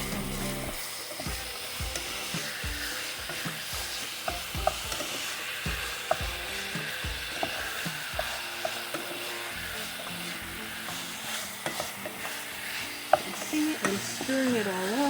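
Sausage meat fries in a pan for sausage gravy while a utensil repeatedly scrapes and stirs it, making rhythmic scraping strokes over a steady sizzle, close and moderately loud, with no talking.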